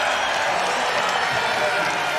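A basketball crowd at an Oregon State versus Portland college game cheers and claps in a steady, moderately loud roar that holds throughout, with no clear single voice rising above it.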